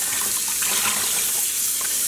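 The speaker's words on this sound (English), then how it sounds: "we just need to rinse off as much as we can" Running water splashes steadily over a tie-dyed cotton yarn ball being rinsed in a sink, a continuous broadband hiss of tap flow with small spattering variations throughout.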